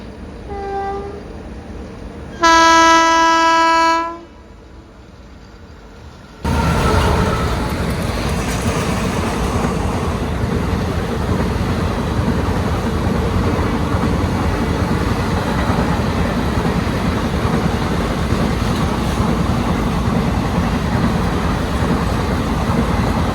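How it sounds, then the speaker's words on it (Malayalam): The Matsyagandha Express, hauled by a WP4 locomotive, sounds a short horn blast and then passes close by in a long, loud, steady rumble of wheels and carriages, heard from aboard another train. "മത്സ്യഗന്ധ എക്സ്പ്രസ് ആണോ ഇപ്പോൾ പോയത് കണ്ടോ?"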